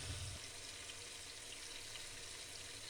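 Chicken frying lightly in a pan as a chicken salan gets started, a steady broadband sizzle with a brief lower rumble at the start and no talk over it.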